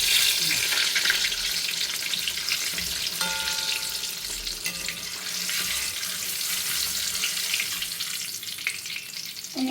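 Sukhiyan, a sweet fritter, frying in hot oil in a home kitchen, a continuous bubbling sizzle at moderate loudness with faint clinks of utensils mixed in and no voices.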